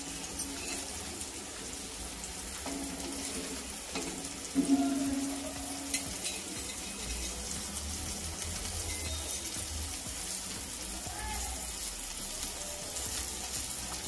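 Surmai kingfish steaks frying Malvani style in a pan, a quiet steady sizzle running throughout with a few small clinks, faint and without talk.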